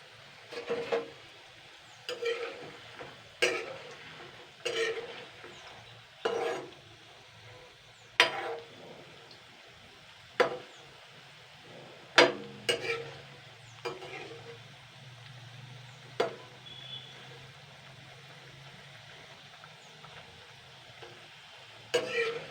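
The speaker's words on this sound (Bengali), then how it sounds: "তো দেখুন আমি কিন্তু লো ফ্লেমে এগুলোকে ভেজে নেব লাল লাল করে" Shell-shaped rice flour jhinuk pitha fry on a low flame in oil, a faint bubbling sizzle broken by a regular series of sharp scraping and clinking stirs.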